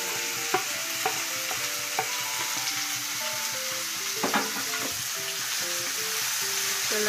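Tomatoes and beans frying in a pan for a Nepali-style beans sabji, a constant hiss of sizzling with scattered scraping clicks of a stirring spoon, close and uninterrupted, no voices.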